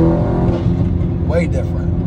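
A Golf R with a DBV2 4-inch downpipe in dynamic mode, valves fully open, crackling and popping from the exhaust in a short burst over a steady engine drone, with people talking over it.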